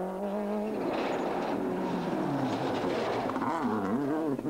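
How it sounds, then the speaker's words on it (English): Rally cars on the West Cork Rally stage in 2003 produce wavering, rising and falling turbo whistles over engine noise, heard fairly close and without speech for a few seconds. "Lots of turbo whistling from Steve Fleck."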